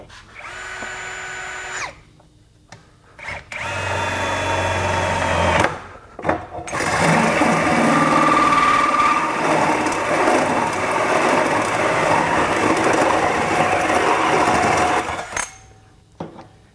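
A Ryobi 18V HP compact One+ drill with a Diablo 1.5 inch hole saw cuts through a steel stud, whining up in short bursts, then grinding steadily and loudly with metallic screeching before stopping.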